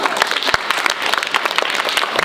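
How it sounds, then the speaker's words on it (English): A middle school audience claps hands during an assembly, a short burst of dense applause with a few sharper individual claps standing out above the crowd. "Clap your hands, y'all"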